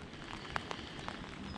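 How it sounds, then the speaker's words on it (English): Rain falls during spring walleye fishing on the Mississippi River, a soft steady patter with a few sharper drops striking a nearby surface, faint and close. "it's raining pretty good right now"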